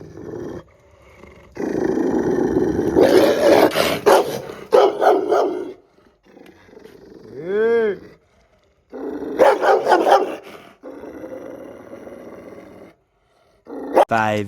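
A dog growls and barks in a few short outbursts, fairly close and loud, with some background noise between the bursts.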